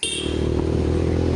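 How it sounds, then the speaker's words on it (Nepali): A motorcycle exhaust starts up close by at the start of a ride, a loud, steady low engine drone with a fast, regular pulsing throb. "यो बाइकको चाहिँ मलाई एकदम मनपर्ने साउन्डले हेर्नुमा एक्जस्ट कस्तो मिठो आउँछ।"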